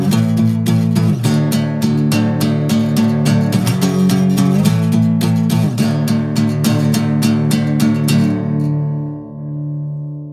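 An acoustic guitar plays the chord progression of a song in rhythmic strummed chords, close and clear, before the final chord rings out and fades.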